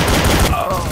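P90 submachine gun firing in Counter-Strike: Source, a dense, loud burst of rapid automatic shots that fills the whole moment.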